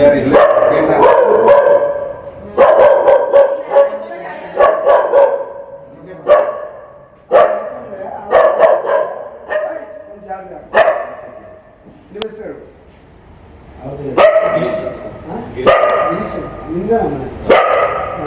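A dog barks repeatedly and loudly near a house compound in Gollar Doddi near Basavanpur, with sharp yips and irregular bursts between pauses and people talking throughout.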